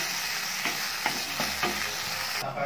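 Ground spice paste sautéing in a pan for sambal goreng kentang with beef tetelan, a steady close sizzle broken by several scraping stir strokes at a regular pace, with no voices.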